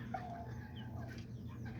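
Pumpkin hens, a small breed of chicken, cluck briefly over a steady background hum, with one short call near the start and soft murmurs after it.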